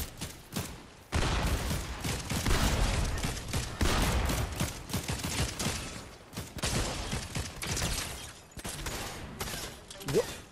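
Dense rapid gunfire in a video game fills the scene in loud sustained bursts with short gaps, shots rattling close together while a voice talks intermittently underneath.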